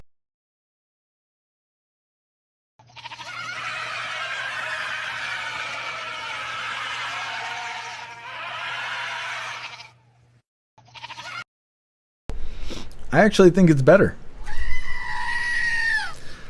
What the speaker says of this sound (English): A little scream and goat action there.